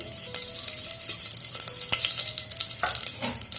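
Fenugreek and mustard seeds sizzle and crackle steadily in hot ghee, a bright, close frying hiss with scattered pops and a few stirring taps, no voices.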